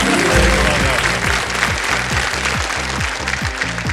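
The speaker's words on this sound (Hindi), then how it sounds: "ताली बज गई पहले से।" Studio audience applause on a televised Hindi quiz show, a loud dense wash of clapping heard close, layered over a rhythmic pulsing music bed that repeats steadily beneath it.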